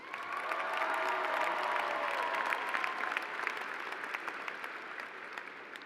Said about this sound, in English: Let's give Jonathan a round of applause.